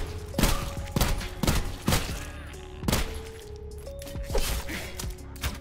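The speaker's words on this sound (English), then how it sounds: "I hear someone shooting at me anyway" Gunfire in the video game Sulfur: a string of sharp, cracking shots, roughly one a second, loud and close, over a faint tonal game backdrop, with no talking.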